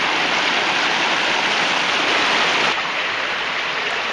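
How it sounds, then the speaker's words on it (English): Small creek branch cascading through Wildcat Creek in January: steady, close rushing water noise, loud and unbroken, slightly easing near the end. "There's a small branch just cascading through there."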